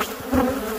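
Swarm of Africanized killer bees in Arizona, a brief, dense, close buzzing hum with a wavering pitch, heard alone.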